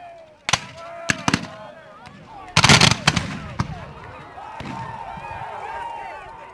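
Muskets fire at a Civil War reenactment in a run of sharp, loud cracks, several single shots and a dense cluster near the middle, over low background noise and faint voices.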